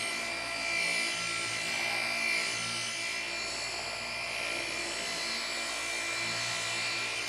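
A constant whirring, buzzing hum with a faint rubbing texture underneath, steady and close, no talking, from wet sanding car paint with 3000-grit paper.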